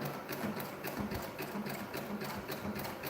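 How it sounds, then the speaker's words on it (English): Sewing machine stitching a fabric surgical mask, running in a steady continuous whir with fast needle clatter throughout, close and moderately loud with no talking. "Let me just sew it again."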